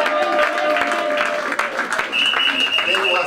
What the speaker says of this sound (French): Acclamons très fort pour le roi du roi.